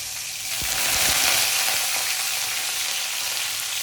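Green chillies drop into very hot oil and sizzle loudly in a dense, hissing burst. A few soft knocks from the pan come at the start, then the frying settles into a steady, close crackle.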